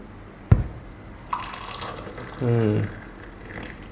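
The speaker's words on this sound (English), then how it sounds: "So one of the things that I want to do is also to show you how well it pours." Water pours from a Tefal Safe'tea 1.7L electric kettle in a brief stream of a few seconds, following a sharp click and a light knock, with a voice talking briefly.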